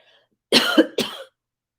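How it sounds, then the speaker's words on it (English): Two quick, harsh coughs in succession, the first dragging into a throaty rasp, close and loud against silence. "As I'm coughing and clearing"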